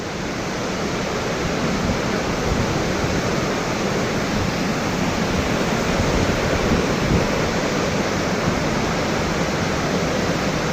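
Thomson's Falls, a 74 m waterfall at Nyahururu in Kenya, heard from its base: a dense, loud, unbroken roar of falling water that holds steady throughout with no voices.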